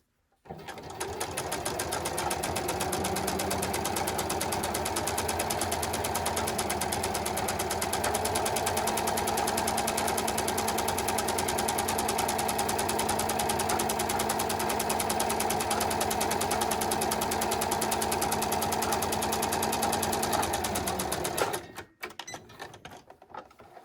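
A sewing machine runs continuously down the length of a jeans piece, a loud, steady mechanical whir lasting about twenty seconds before stopping abruptly, followed by brief handling noises.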